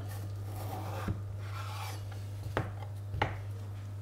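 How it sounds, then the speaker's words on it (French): Potatoes being peeled with a peeler in a kitchen, a faint steady rasping scrape with a few sharper strokes standing out, no talking. "on va venir peler les pommes de terre comme ceci."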